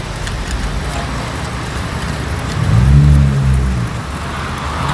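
A car drives along a quiet Sunday lane, its steady road and engine noise swelling briefly as it passes or accelerates around the middle, with no voices.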